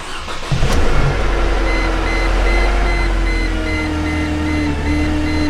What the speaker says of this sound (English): Let's go ahead and see what it does when I start the vehicle up.